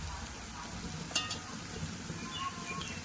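Chopped onions sauté in a pan with chilli powder, salt and turmeric for zunka, giving a steady close, soft sizzle with one brief clatter partway through; no one speaks.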